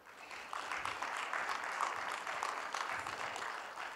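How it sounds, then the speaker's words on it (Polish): Church congregation applauding to welcome a guest speaker at a Gideons gathering, a steady wash of many hands clapping that swells after the first half second and holds evenly, fairly distant in a reverberant hall. "przywitajmy go oklaskami."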